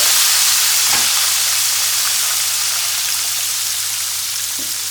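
Southern fried chicken frying in an uncovered pan gives a loud, steady, dense sizzle with a continuous crackling hiss and a couple of faint knocks, no talk.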